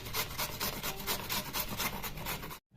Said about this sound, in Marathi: पूर्ण असं गोल गोल फिरून गाजर किसून घ्यायचं